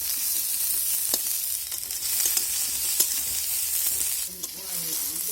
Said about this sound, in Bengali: আমি শিমটাকে প্রথমে একটু নেড়ে চেড়ে ভেজে নেব